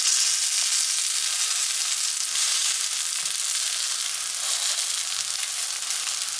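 Chicken kebabs fry in a pan with a steady, bright sizzle of hot oil that holds evenly throughout, close and moderately loud, with no voices.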